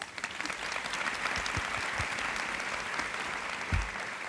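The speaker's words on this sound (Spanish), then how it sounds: "Un aplauso para ellas." A church women's conference audience applauds a panel of women, a steady wash of clapping filling the hall for several seconds with a few louder thumps near the end.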